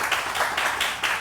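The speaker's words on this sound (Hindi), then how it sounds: "बहुत सारी तालियां।" A studio audience on a morning television show applauds in a brief, dense burst of clapping that rises and falls in waves.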